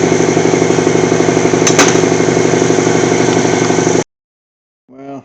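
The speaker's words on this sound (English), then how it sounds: "Just got a little motor here and a compressor." A small electric motor drives an air compressor from a 1960 Ford F100 restoration, running with a steady buzzing drone and fast pulsing for about four seconds, then cutting off abruptly; a faint voice follows after a pause.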